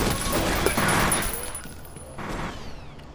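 Gunfire in the shooter F.E.A.R., a brief burst of shots fading into reverberant echo, moderately loud, with a voice speaking over part of it.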